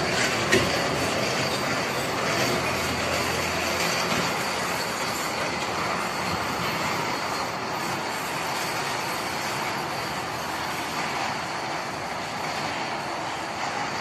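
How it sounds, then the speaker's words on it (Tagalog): A children's toy electric train runs steadily on its track, giving a continuous close rattling rumble with a faint clicking rhythm that holds level from start to finish, with no talk over it. "Bali, start na natin yung train."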